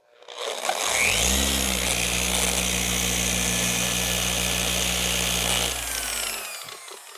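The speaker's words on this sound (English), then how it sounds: "we gotta be really careful when buffing edges so we don't burn through the paint" A power polisher buffs car paint to remove deep key scratches, a steady loud motor whine with rising pitch that runs for about six seconds before winding down, with no talking.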